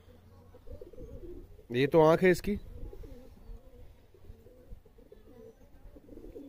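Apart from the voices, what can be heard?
Malwai pigeons cooing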